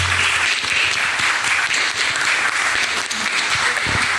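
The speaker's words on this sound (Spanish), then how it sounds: "Y el aplauso para ella." An audience applauds steadily at the presentation of a photography book about Lota, the clapping dense, even and moderately loud throughout with no break.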